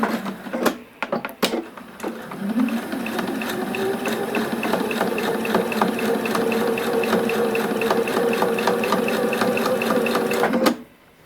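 A sewing machine stitches back and forth over elastic on a cloth face mask, with a few clicks and handling noises at the start, then a fast steady mechanical whir, then a brief stop.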